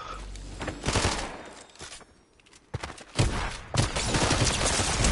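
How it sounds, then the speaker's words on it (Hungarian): Rapid gunfire in Fortnite on PS5, loud bursts of shots coming in volleys with a short lull in the middle, thumps and footsteps mixed in. "Már lövéseket hallom."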